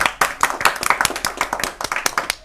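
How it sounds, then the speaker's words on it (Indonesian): An audience claps for comedian Barry Williem, a brisk run of sharp hand claps in an uneven rhythm, close and fairly loud, with no speech over it. "Tepuk tangan yang paling meriah buat Bang Bari William."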